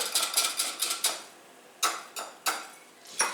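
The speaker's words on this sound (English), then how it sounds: "And then whisk everything together." A whisk clatters in a bowl as a sugar mixture for sweet sandwich buns is stirred together, with several quick bursts of rapid ticking strokes separated by short pauses.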